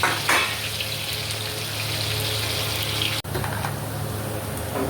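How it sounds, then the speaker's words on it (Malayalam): Onions fry in a pan for chicken mandi, a loud, steady sizzling hiss close to the pan, broken once by a sharp instant cutout before the sizzle resumes. "ഫ്രൈ ആയിക്കൊണ്ടൊന്ന് ഉള്ളിയിടാം ഉള്ളി"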